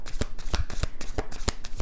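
A deck of tarot cards being shuffled close up, a quick run of crisp riffling slaps in an even rhythm, heard on its own.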